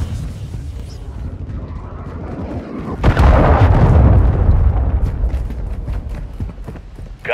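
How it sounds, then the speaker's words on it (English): A cruise missile explosion in Call of Duty: Modern Warfare 2, a deep booming blast swelling loud and rumbling for several seconds over a background of gunfire and battle noise. "Hostile cruise missile launched."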